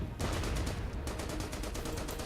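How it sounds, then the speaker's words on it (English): Rapid rolling volleys of artillery fire in the Order of Battle: WW2 strategy game sound as a dense, loud stream of booming shots with no voices over them. "let's just bombard them with the artillery"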